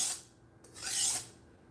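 A budget knife blade drawn across a sharpening stone, raising a burr: two short raspy strokes, the second longer and louder, close up with no talking.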